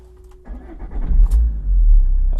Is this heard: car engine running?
yes